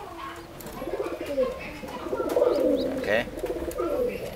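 Racing pigeons, including an aggressive male parent bird, coo in repeated throaty rolling phrases at close range, with a voice speaking briefly in between.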